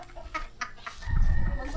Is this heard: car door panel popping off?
no